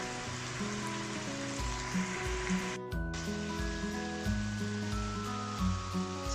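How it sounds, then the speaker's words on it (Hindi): Chicken fries in a pot for Kashmiri pulao, a steady close sizzle running throughout beneath a layer of tonal background music. "चिकन हमारा अच्छे से भुन गया है"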